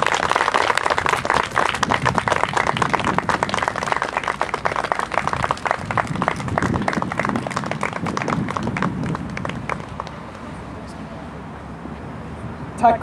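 An audience claps after a political summer speech in Gustavsberg, dense steady applause that runs for about ten seconds before thinning out and stopping.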